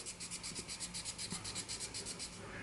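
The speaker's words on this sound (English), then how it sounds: "So I'm really kind of sanding, not with the full surface, but just this one edge" Rhythmic back-and-forth rasping of sandpaper rubbing along one edge of a pipe stem, steady strokes close up, fairly quiet and with no talking.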